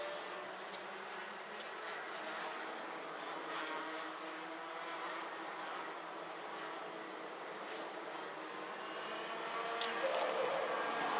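Senior racing karts at the Genk Euro Trophy final buzz along the track as a faint, distant, steady whine of small engines, with occasional sharp ticks and a slight swell toward the end.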